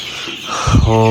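Chicks at a poultry farm chirp and peep in a busy, high-pitched chorus while someone speaks over them.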